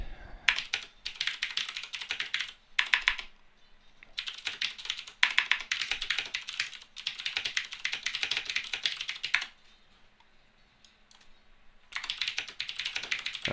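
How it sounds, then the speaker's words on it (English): Bursts of rapid typing on a computer keyboard, close and fairly loud, falling into several runs separated by short pauses and a longer quiet gap near the end. Gaming commentary setting, with no talk over the keys. "I don't want to spend too much time typing to him"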